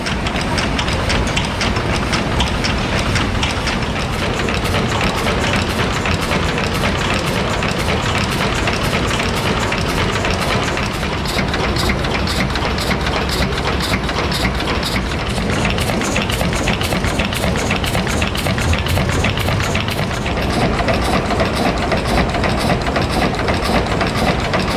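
A 1935 stationary steam engine with 8.5-inch and 16-inch cylinders and a 22-inch stroke, rated about 80 horsepower at 120 RPM, runs in a museum. It gives a loud, continuous mechanical rumble with a steady rhythmic beat throughout.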